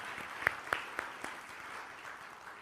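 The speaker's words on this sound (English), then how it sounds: "Can we give a round of applause" Scattered clapping from a small church congregation at a Sunday service, a few sharper claps standing out over a soft, steady patter, fairly faint and with no talking.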